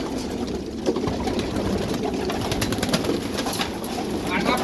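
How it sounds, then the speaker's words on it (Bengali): Pigeons coo continuously inside a modern pigeon house on a farm, low throaty calls overlapping at close range with faint chirps and background hum. "আপনারা দেখতে পাচ্ছেন আমরা অনেক সুন্দরভাবে কিন্তু কবুতরের ঘরগুলো তৈরি করেছি।"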